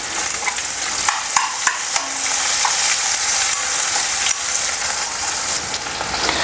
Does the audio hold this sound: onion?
yes